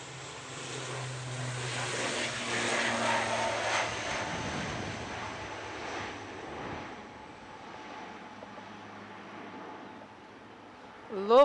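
An ATR 72 turboprop airliner with a tartan tail, departing Manchester Airport for the Isle of Man, roars broadly during its takeoff run and climb, then fades steadily into the distance. Voices can be heard faintly beneath the noise.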